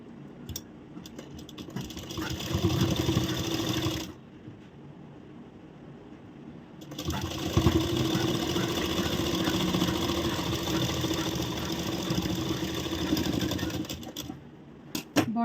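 A sewing machine stitches along the bottom of a designer blouse in two long steady runs of mid-pitched motor whir, separated by a pause of about three seconds, ending with a few clicks.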